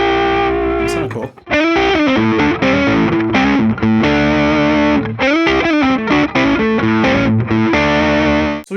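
A heavily distorted electric guitar riff churns loud and dense, with chugging chords and quick melodic note runs, a brief dropout near the start, and no voices.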